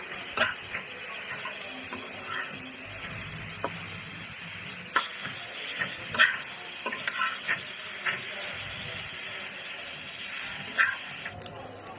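Vegetable bhaji fries in a pan, a continuous hiss of sizzling oil broken by scattered clicks and scrapes of stirring, close and moderately loud, with no talk.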